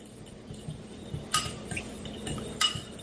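A honey balsamic glaze with garlic and onion powder stirred in a small bowl, with quiet clinks and taps of a utensil against the dish, close and unhurried.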